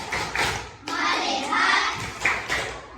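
Children clap their hands in a classroom focus chant, a few sharp irregular claps with thuds, fairly close and moderately loud with no voices.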